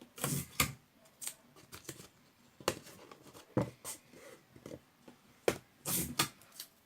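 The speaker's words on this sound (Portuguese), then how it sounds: "nesse acabamento, eu gosto de colocar uma fita crepe" Masking tape is pulled and pressed onto the trim of a handmade container, with short crackling rips and rustles arriving in uneven bursts, close and fairly quiet, with no talking.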